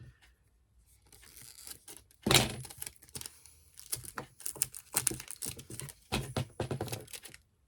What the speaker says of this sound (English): I found packing tape. And I'm just gonna eyeball it, cut off a piece.